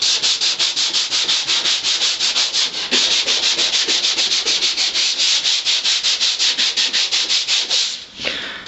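Rapid, steady rasping strokes of sanding or wire-brushing rust off the steel floor pan of a 1962 Ford Falcon, loud and close, repeating evenly for several seconds before briefly easing at the end.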